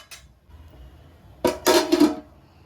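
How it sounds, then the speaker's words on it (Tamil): A few sharp metallic clanks as a lid is set onto a pot of vegetable biryani, close by, in a short cluster after near silence. "மூடி வச்சு மூடிடலாம்"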